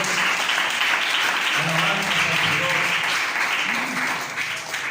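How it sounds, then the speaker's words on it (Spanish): Congregation applauding at a Spanish-language church service, a steady wash of many hands clapping at once, with low voices murmuring and calling out beneath it throughout. "Démosle un aplauso al Señor."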